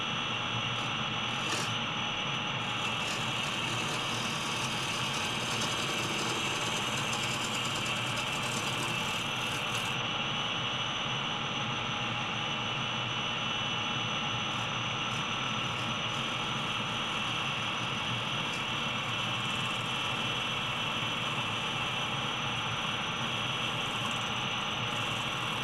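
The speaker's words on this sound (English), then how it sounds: "The surface is smooth but uneven, so I mess up my beautiful burnished finish with a scraper." Hand scraper working the uneven surface of a turned mesquite wood bowl, a continuous steady rasping hiss with little variation, close and moderately quiet, with no talking.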